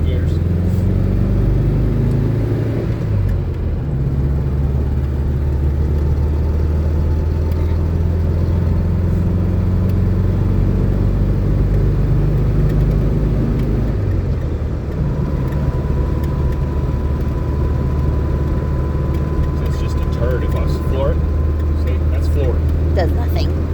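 An air-cooled VW Bug engine runs with a low, steady drone that dips and shifts in pitch as gears change, stumbling slightly, with a brief whine partway through and no clear talk over it.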